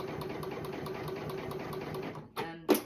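A sewing machine stitches a zip pocket onto a PU faux leather bag in a fast, steady mechanical run. It then stops, and two sharp clicks and knocks follow, close and quiet, with no talk.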